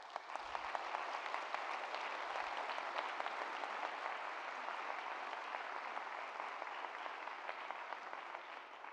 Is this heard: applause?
yes